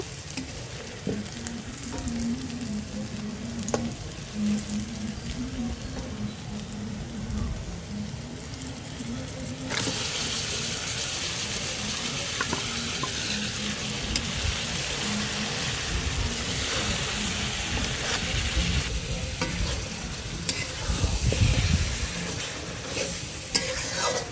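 Duck meat frying in a pan and being stirred, a steady close sizzle with scraping stir strokes throughout, growing louder and brighter partway through.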